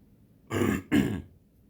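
A stubborn cough from throat inflammation: two quick, muffled coughs in succession, close and fairly soft, with quiet surroundings.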